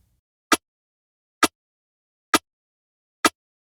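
Four sharp, bright snare hits spaced evenly about a second apart, each short and punchy with a wide, open feel from a 3-millisecond stereo delay offset between channels, no voices.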